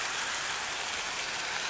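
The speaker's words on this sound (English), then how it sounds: "It is raining" Rain falling outdoors at a lodge in Sevierville, Tennessee, a steady dense hiss that holds even and unbroken throughout.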